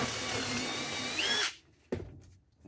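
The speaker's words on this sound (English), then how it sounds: "Drill a hole through the top center." A power drill whines loudly for about a second and a half while drilling a hole through wood, then stops; a short knock follows before quiet.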